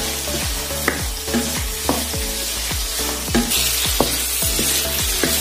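Shrimp fry in a pan with a steady crackling sizzle, broken by repeated rhythmic scraping strokes as they are stirred, close and fairly loud.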